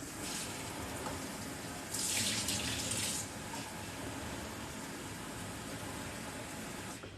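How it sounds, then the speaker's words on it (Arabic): Water runs into a glass for Tunisian mlawi dough in a home kitchen, a short steady pour of about a second in the middle of a quiet room hum. "دونك نزيدو نعبو الماء"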